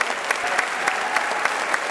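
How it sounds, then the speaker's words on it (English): A school audience gives loud, dense applause for 10th and 11th grade academic achievers at a Waco ISD ceremony, with a few sharper claps popping out regularly above the steady crowd clapping. "Big round of applause to all of our academic achievers, 10th grade and 11th grade."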